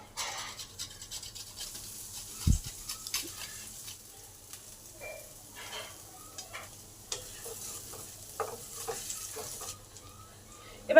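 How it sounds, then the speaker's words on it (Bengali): Grated ginger and asafoetida fry in a pan over low heat for upma, a faint, intermittent sizzle broken by scattered clicks and scrapes of stirring. "আদাটাকে গ্রেট করে দিয়ে দিই,"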